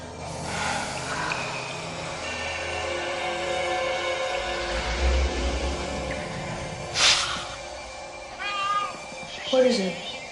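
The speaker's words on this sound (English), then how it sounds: "What is it? I think it's a cat." Several cats meow and caterwaul in a tense dramatic scene, with rising and falling cries clustered near the end over a low background bed and muffled voices.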